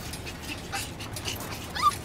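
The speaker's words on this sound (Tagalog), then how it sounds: "Kasi ito guys yung mga aso ko." Pregnant dogs kept in a pen whimper and let out short yips and barks, several brief high whines close by over a quiet background, with no speech.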